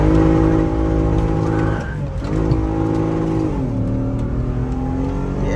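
Toyota Mark X with a misfire and low engine compression driving hard through a turn, a loud, close engine revving and dipping in pitch as it slows mid-corner, then pulling again.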